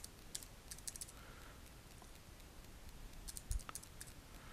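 Quiet typing on a computer keyboard, with soft irregular key clicks in short bursts over a faint background hiss.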